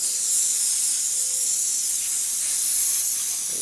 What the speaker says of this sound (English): I think I'll just use the water hose and spray it off